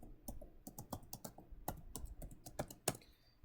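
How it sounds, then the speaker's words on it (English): Password being typed on a computer keyboard: a quick irregular run of soft, close key clicks at a low level, no talking. "and then we need to type in our password"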